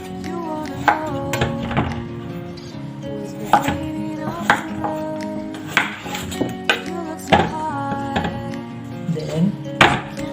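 A knife chops carrots on a cutting board for soup, a steady run of close, sharp thunks in uneven rhythm, with faint background music underneath.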